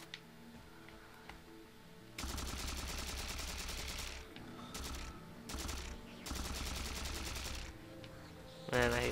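Sustained automatic gunfire from a weapon in Halo 4 on Legendary difficulty, several long loud bursts separated by short pauses, with a quieter stretch before the shooting begins.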